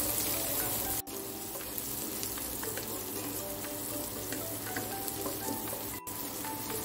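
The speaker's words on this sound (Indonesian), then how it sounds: "Sekarang akan saya tumis. Ditumis sampai aromanya harum dan layu ya." Sliced galangal sautéing in a pan with oil, a dense continuous sizzle with faint crackles and occasional stirring, close and alone.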